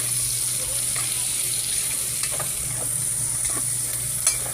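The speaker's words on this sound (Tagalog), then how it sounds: "Yung hotdog, aray, nagtatalsikan yung mantika." Ground meat and hotdog frying in a pan, oil spattering in a continuous sizzle with scattered pops and a soft stirring scrape, no voices.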